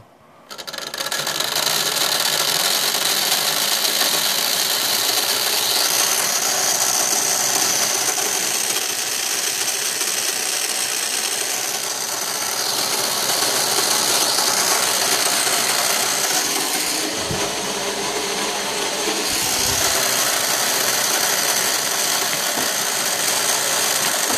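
A prototype dual-motor Nerf dart flinger spins up quickly to a loud, sustained high-pitched motor whine that holds nearly steady for over twenty seconds, close by and with no talking.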